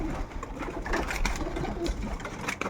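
Pigeons cooing inside a loft, several soft throaty coos overlapping against a busy, rustling background, close by and continuous.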